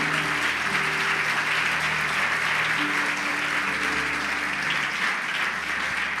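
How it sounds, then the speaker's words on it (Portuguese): A church congregation applauds during a Sunday celebration service after a poetry reading. It is a dense, continuous wash of many hands clapping, steady and loud throughout, with no break. "Uma salva de palmas para Clarice Lispector"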